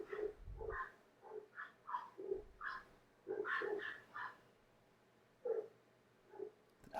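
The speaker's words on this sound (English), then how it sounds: "The dog's just barking." A dog barks in a series of short, fairly faint woofs and yips with uneven spacing, heard at a distance over low background rumble.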